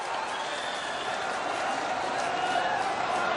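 A large crowd at a political rally in Samastipur, India, claps continuously, a dense wash of applause heard from a distance with no clear individual claps standing out.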